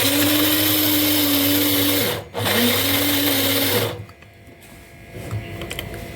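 Electric mixer grinder blending rice for a homemade night cream, a loud close motor whine that briefly cuts out and restarts, then stops, leaving quiet room noise.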